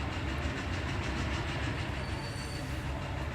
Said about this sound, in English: I think the train is just going past because I hear something go choo-choo